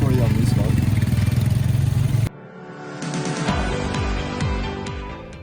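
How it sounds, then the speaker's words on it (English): Motorbikes with sidecars carrying several passengers, their engines droning loud and close, then cutting to a quieter stretch of engine hum with occasional revs, a voice talking over part of it. "Sidecars on these motorbikes."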